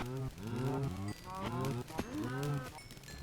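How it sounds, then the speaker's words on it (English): Minecraft cows on a farm moo repeatedly in a game, several long drawn-out lowing calls following one another at close range, loud and clear with no talk over them. "We'll breed up the cows again."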